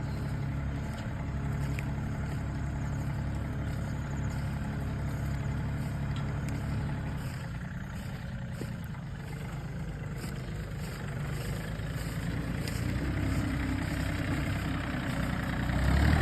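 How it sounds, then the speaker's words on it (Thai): Yanmar AF230 farm tractor warming up with its engine at a steady idle, a continuous low rumbling drone recorded close, holding even for the whole stretch and swelling slightly near the end. "นี่กำลังวอร์มเครื่องครับ"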